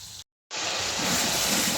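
Hot oil sizzles and foams in a cooking pan. After a brief moment of silence, a bright, steady hiss takes over and stays loud and continuous.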